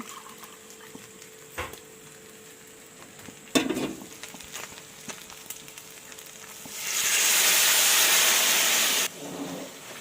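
Loud steamy sizzle surges up as water hits chicken frying in a hot pan, hissing strongly for a couple of seconds before cutting off, with quieter frying crackle before it.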